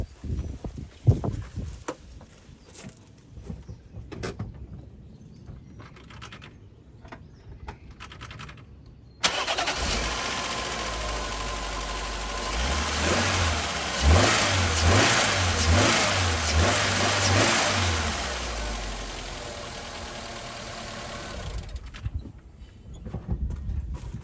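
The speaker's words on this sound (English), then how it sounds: "so now it's time to start the car" A Mazda car engine after belt repair work, started after quiet handling noises, catching abruptly and running loudly close by, with several rising and falling revs in the middle before it shuts off.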